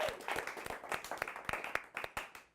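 Sparse audience applause from a studio or live crowd, a scattering of separate claps with uneven rhythm over about two and a half seconds, fairly faint with a little background murmur.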